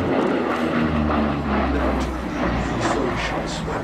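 A Lockheed P-38 Lightning, a large twin-engine fighter, flies at the Duxford Flying Legends air show, giving a steady, loud engine drone with low rumble that holds throughout without clear passes or breaks.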